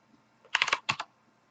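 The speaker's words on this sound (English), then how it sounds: "Type it in." Keys on a computer keyboard clatter in two quick bursts, about eight close, crisp taps in under a second, with the room otherwise quiet.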